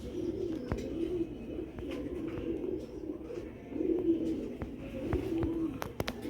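Sialkoti black-faced pigeons cooing, repeated low throaty coos in a steady rhythm, fairly close, with occasional sharp clicks and knocks in between.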